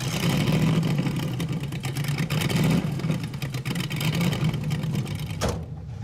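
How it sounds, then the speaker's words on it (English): The Mazdarati's engine revs hard and holds at high pitch during a burnout attempt with the front wheels chocked, a loud close roar that wavers and then cuts off abruptly near the end. "I'm gonna chalk the front wheels and we'll try a burnout"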